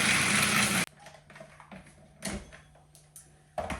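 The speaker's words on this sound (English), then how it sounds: "I'm just going to run that food processor." Food processor whirring loudly as it minces garlic, parsley, thyme and pecans in a short burst, then cutting off into quieter kitchen clatter and small knocks.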